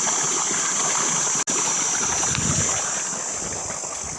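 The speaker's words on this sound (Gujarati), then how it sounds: "જો આપણે પાણી અહીંયા આવે છે." Water running into a channel in a farm field, a constant close rushing flow with a steady high hiss that carries on throughout outdoors, broken by a single abrupt dropout, and no one speaking.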